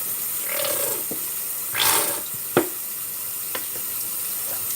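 Hot water runs from a tap for washing dishes, a steady hiss of flow with a few clinks and knocks of dishes, no talking.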